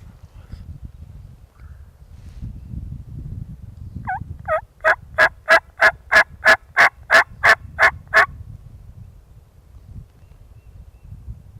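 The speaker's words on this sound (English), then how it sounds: "He just gobbled right here." A wild turkey gobbler in the Kentucky mountains lets out a loud, rapid rattling gobble of about a dozen quick notes lasting several seconds, close by over faint wind and rustling in the woods.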